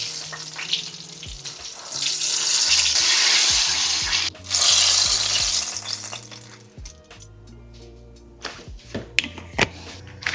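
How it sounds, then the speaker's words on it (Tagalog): Onion and garlic sizzle in hot oil in a pan for tofu and eggplant adobo, a loud, bright frying hiss swelling in bursts, then dropping to quieter clinks and stirring sounds. "kapag mainit na yung mantika, mag-gisa na kayo ng onion and garlic"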